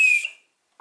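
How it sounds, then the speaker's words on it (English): One short, shrill blast of a whistle, loud and close, which fades quickly into silence. "When you want to scare your friend, you whistle"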